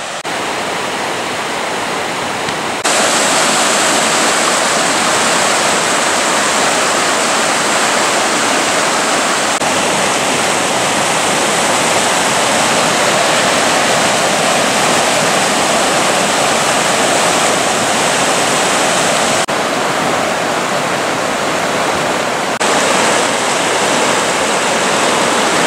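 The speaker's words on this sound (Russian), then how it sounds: "Две реки сливаются." Two rivers merge in a loud, continuous rush of churning water on a winter hike, a dense unbroken roar heard close up from start to finish, with no voices.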